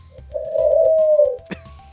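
A bird coos once near the microphone, a smooth low tone swelling and fading over about a second, followed by a short sharp chirp.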